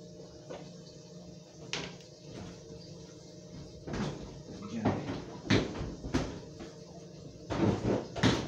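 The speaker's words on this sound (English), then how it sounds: "door's falling off" Stovetop oven door, on a range about two years old, coming loose and being put back: a run of faint metallic knocks, thumps and clunks, scattered irregularly and growing louder toward the end.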